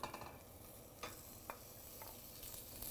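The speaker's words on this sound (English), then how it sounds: "I want to cook this guanciale" Guanciale frying in a pan on the stove gives a faint, steady sizzle, broken by a few light clicks of a utensil against the pan, and no one speaks.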